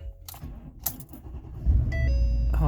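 A truck engine cranks slowly on a weak battery, a sluggish starter churning followed by a low steady rumble as it catches, with clicks and jangling up close and no talking.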